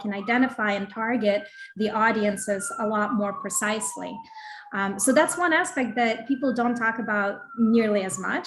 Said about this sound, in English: And I apologize for the siren here.